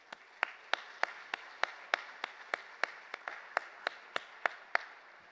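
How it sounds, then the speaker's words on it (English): Slow, evenly spaced hand claps ring out one at a time at a Memorial Stadium venue event, about twenty sharp, moderately loud claps in a steady rhythm, more like a lone clapper or a sparse start than full crowd applause. "let's just start off with a round of applause"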